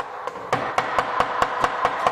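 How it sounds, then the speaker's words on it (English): A hammer strikes a wooden crib again and again, about ten sharp knocks at an uneven but quick pace, close and clear with nothing else heard. "I'm hitting my crib with a hammer"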